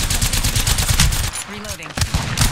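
Rapid automatic gunfire in the video game Apex Legends, loud close bursts that pause briefly midway and resume, with voice lines over it.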